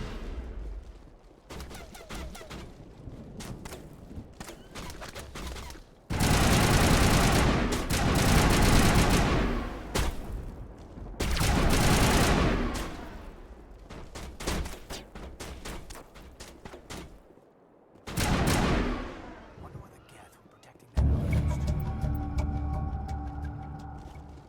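Gunfire crossfire in the Mass Effect video game: several loud bursts of rapid automatic shots with quieter stretches of scattered fire and battle ambience between them, ending on a droning hum.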